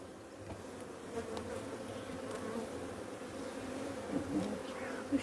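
Honey bees buzz around open beehive frames, a dense continuous hum of many insects close by, steady and low with small swells, without talk.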